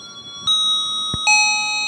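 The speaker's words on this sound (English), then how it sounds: "When doorbell switch is on, it produces musical sound." An electronic doorbell on an assistive device for hearing-impaired people chimes a short melody of bright, sustained tones, two notes ringing out clearly with little else around them.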